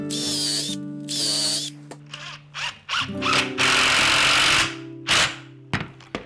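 Power drill driving screws into 3.2 cm square wooden stool legs, several short whirring bursts of varying length separated by pauses, with clicks and handling noise between runs.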